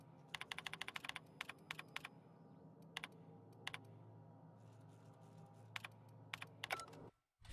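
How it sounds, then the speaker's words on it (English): Random keys mashed on a computer keyboard during a session of The Outer Worlds, heard as irregular bursts of sharp, close clicks over a steady low background hum, ending abruptly. "Mash random keys."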